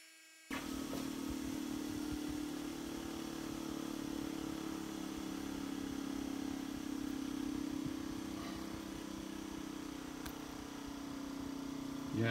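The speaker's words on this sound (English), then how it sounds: "I'm gonna go ahead and just touch it up a little bit on the belt sander" A belt sander touches up a brazed automobile key, running as a steady motor whine with a constant belt hum that holds evenly for several seconds in a quiet workshop.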